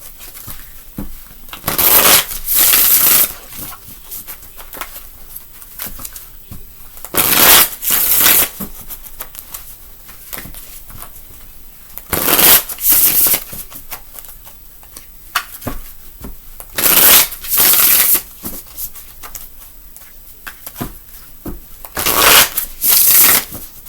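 Playing cards are shuffled repeatedly, about five crisp riffling bursts spaced several seconds apart, close and fairly loud, with quiet pauses between.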